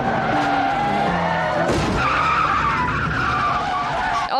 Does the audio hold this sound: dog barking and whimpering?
no